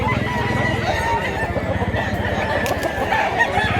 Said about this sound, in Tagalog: Daghan kay manok mga idol, mga quality